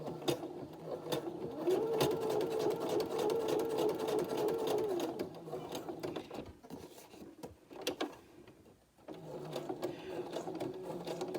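A sewing machine stitches steadily for a few seconds while making a small scrapbook satchel, pauses and clacks briefly, then resumes a continuous whirring run, close and clear with no talk.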